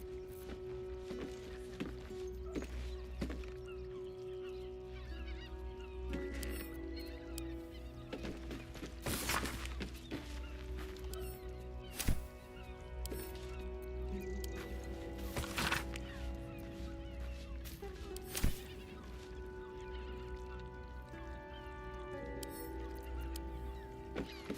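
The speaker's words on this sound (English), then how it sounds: "Pigeons are very sensitive. They can't fly straight if they're disturbed." Pigeons in the video game Baldur's Gate 3 give soft fowl-like calls through a steady bed of game music, with footstep-like taps and a few sharper accents throughout.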